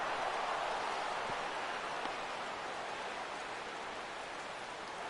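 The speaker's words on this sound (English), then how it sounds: "And Dan, when it comes to pitching in the rain, what changes?" Steady rain falling during a baseball game in a PS4 video game: a dense, even hiss of rainfall that stays constant throughout, with no voices heard.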